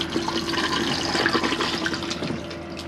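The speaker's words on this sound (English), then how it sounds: "You've got the flush on the toilet with the blue button." A Thetford cassette toilet in a Chausson Welcome 640 motorhome flushes with pumped fresh water from the main tank, giving a close, steady rush of water that lasts about three seconds.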